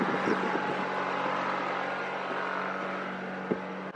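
A sailboat's inboard engine runs steadily while motoring, giving a constant mid-level drone with a faint tonal hum and light water and hull noise, and a brief knock near the end.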